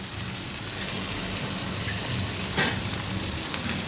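Spices frying in a pan with a splash of water, a steady close hissing sizzle that holds evenly throughout, with one brief louder crackle partway through and no voices.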